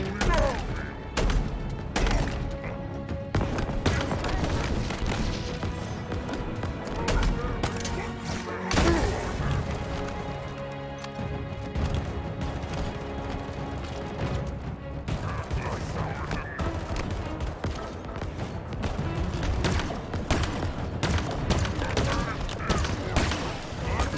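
Gunfire in Halo Infinite: repeated sharp bursts and thuds of weapons fire scattered across the span, moderately loud, with speech in between.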